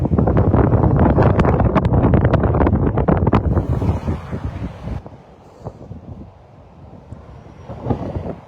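Strong wind buffets the microphone beside the entrance ramp to Interstate 26 at Exit 5 in Kingsport, Tennessee, loud and rumbling for the first four seconds, then easing into softer gusts with occasional thumps.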